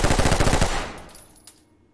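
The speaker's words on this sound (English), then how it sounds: "I shot you by mistake." Rapid automatic gunfire in the tactical shooter Ready or Not, a fast burst of loud close shots for about a second that fades into a decaying echo, followed by one faint extra click.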